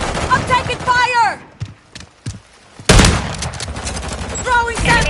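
Loud, dense gunfire bursts in Call of Duty: Modern Warfare III erupt near the end, with shouted voices at the start and close.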